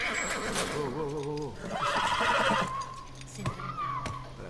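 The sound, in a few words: horse whinnying in the video game The Last of Us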